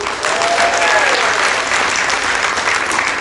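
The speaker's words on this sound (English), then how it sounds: "Can we give Alice a round of applause?" Audience applause at a magic show aboard the Disney Magic cruise ship, a dense steady round of clapping filling the whole stretch, with a brief voice faintly underneath.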